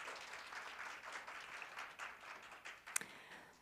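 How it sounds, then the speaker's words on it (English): An audience at the 9th ASEAN Connectivity Forum gives a round of applause, faint and steady clapping heard from a distance, with one sharper knock near the end. "please give them another round of big applause"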